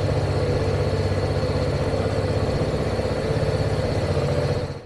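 A loaded touring motorbike idling in Kenya just before riding off, a steady close engine throb with fast even pulsing, loud and unbroken, easing off at the very end with no talk.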